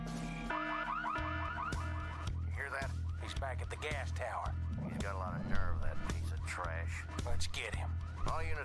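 A car alarm blares from the Full Throttle video game, its looping warbling tones repeating steadily and loudly over dense game music and background effects, with voices talking over it.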